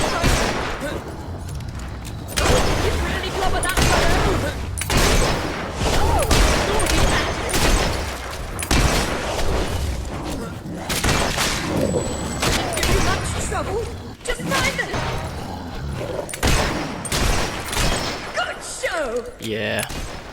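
Gunfire in Fable 3 cracks out in rapid, repeated shots and bursts while fighting Hollowmen, with heavy combat clatter and a voice talking over much of it.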